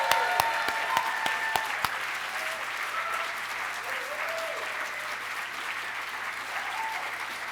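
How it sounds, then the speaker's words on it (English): Awards ceremony audience applauding at a publishing awards event, a dense steady wash of clapping with a few sharp isolated claps near the start, sustained at fairly even loudness throughout. "Let's give them one big, loud, unapologetic round of applause."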